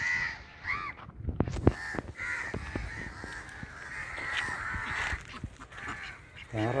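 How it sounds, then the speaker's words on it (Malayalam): Crows caw repeatedly among the mangrove islands of Munroe Island on Ashtamudi Lake in Kollam, with loud, overlapping calls in irregular bursts, some close and harsh, over a faint outdoor background. "കംപ്ലീറ്റ് കാക്കകളെല്ലാം കൂടെ"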